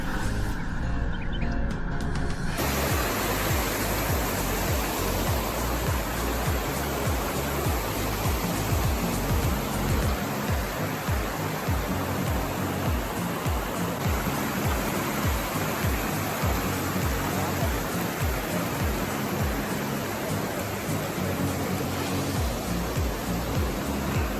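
Mountain stream rushing near Garni Temple in Armenia, a dense, steady broadband roar of flowing water that stays loud and continuous, with faint birds and a brief quieter opening.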